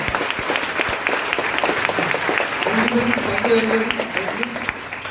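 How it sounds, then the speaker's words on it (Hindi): An audience claps steadily for Mohammed Akbar at a Team Delhi event, a dense, sustained round of applause close by, with a voice speaking over it partway through. "करें एक बार जोरदार तालियां मोहम्मद अकबर सर के लिए"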